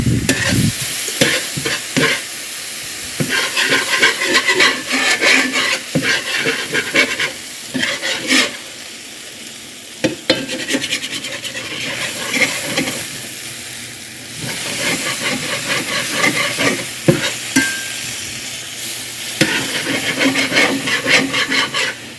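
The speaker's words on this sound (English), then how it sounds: "Deglaze the bottom of your pan." A pan deglazed with beef broth while cooking hamburger steaks and onion gravy, with a long stretch of scraping, stirring strokes over a steady sizzle and occasional clinks of the utensil, close up and without talk.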